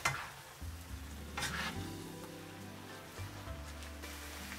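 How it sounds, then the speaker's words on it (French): Rice vermicelli with shrimp stirred over high heat in a hot pan, a steady sizzle and frying hiss with scraping utensil strokes throughout, close and fairly quiet. "Je repasse à feu fort, je remue brièvement."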